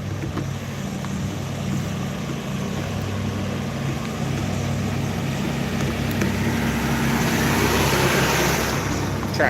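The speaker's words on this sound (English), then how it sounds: "Oh, there it is, tractor." A tractor rumbles past on a road, a steady low engine drone with broadband mechanical noise that grows slightly louder toward the end, heard alone without talk.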